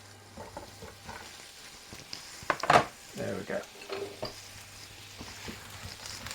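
Chopped vegetables land in a frying pan and start to sizzle, with clatter from stirring and utensils against the pan, fairly close and quiet; a person speaks briefly.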